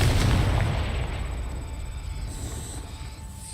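A Confringo blasting spell explosion in Hogwarts Legacy, a loud booming burst that rolls off into a fading rumble with no voices over it.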